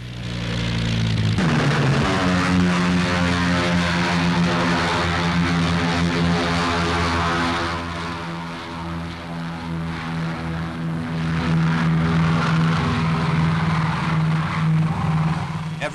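Propeller engines of a bomber aircraft in 1946 roar loud and close as they run up for takeoff, a steady droning hum that swells, dips briefly and builds again, with no voices.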